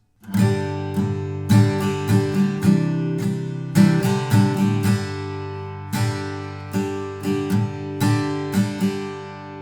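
A longer passage of acoustic guitar chord strumming, loud and near, moving through several chords in a lively, repeating rhythm.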